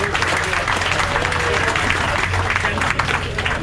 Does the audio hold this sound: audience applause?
yes